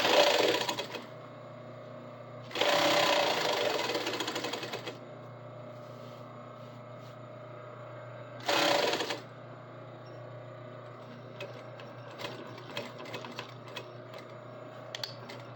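A sewing machine stitches a vanity bag panel in three loud, steady runs of motor whirr separated by quiet pauses. Faint clicks and handling sounds follow the last run.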